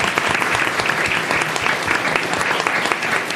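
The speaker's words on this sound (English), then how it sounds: "So let's give him a round of applause." Audience at a school district governing board meeting applauding an honored student, a dense, steady wash of clapping from many hands throughout, fairly close and loud.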